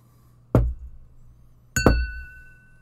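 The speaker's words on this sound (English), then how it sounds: "That glass sounds a little bit more full, right?" Two full glasses clinking in a toast: two sharp, close knocks of glass about a second apart, each leaving a short ringing tone, with no talk.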